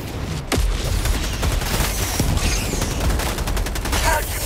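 Dense, loud Helldivers 2 combat: a thrown grenade bursts with a heavy boom amid continuous rapid gunfire, with shots crackling throughout and a voice briefly shouting over the din.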